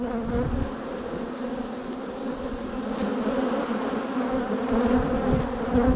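Dense, steady buzzing of many honeybees at an open hive during swarm-prevention work, a continuous close drone with no talk.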